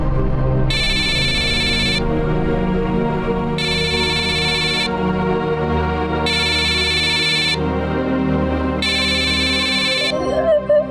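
A mobile phone rings in four evenly spaced electronic bursts, each lasting just over a second, over steady low room noise and a faint background hum.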